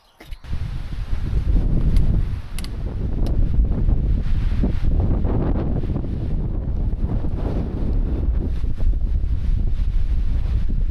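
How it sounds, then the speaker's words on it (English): Strong wind on a Czech mountain roars steadily and loudly into the microphone, a dense low buffeting that starts suddenly and goes on without a break. "This wind."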